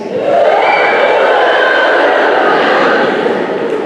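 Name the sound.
imitated gasping breath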